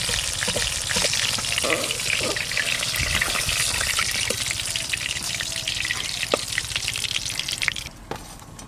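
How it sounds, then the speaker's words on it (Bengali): Hilsa fish pieces fry lightly in a pan with a loud, dense, continuous sizzle and crackle, scattered with sharp pops and spatters, which drops away suddenly near the end. "বাকি মাছগুলোও ভেজে নেব।"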